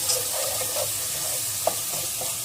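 Pepper flakes and thyme stirred in a pot for a bean and meat stew, a soft continuous sizzle with faint scraping and one light knock, close and low in level.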